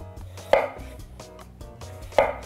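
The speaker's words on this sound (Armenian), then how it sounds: "Այսպիսի կտորների մոտ 1-2 սանտիմետր կողմերի կարտոֆիլը կտրատենք" Two sharp knife strikes on a cutting board as potatoes are cut into roughly one- to two-centimetre pieces, spaced about a second and a half apart, with soft handling noises between them and no talking.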